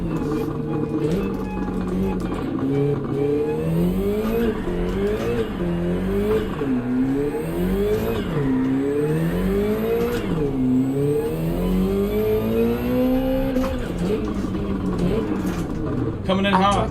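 Ferrari race car engine in Gran Turismo 7, droning loudly and steadily with repeated rising and falling revs through gear changes, under someone talking over it at times.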